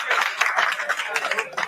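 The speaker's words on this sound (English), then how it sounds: "Also, the clapping and stuff, again, this is why we don't have audiences." A studio audience claps at a courtroom scene in a TV sitcom, a short, dense burst of applause heard at moderate distance and at steady volume for the whole moment.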